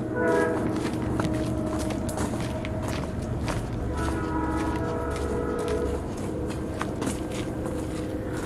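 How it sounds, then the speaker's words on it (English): A loud train passes nearby, its steady low rumble filling the scene while horn-like tones sound intermittently over it and footsteps crunch close by. "I hear a train."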